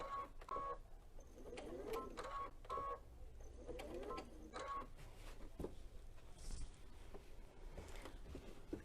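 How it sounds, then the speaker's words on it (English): A sewing machine working a straight stitch, with faint, quiet bursts of rapid mechanical whirring separated by short pauses and small clicks in a quiet room. "I'm just gonna do a straight stitch here."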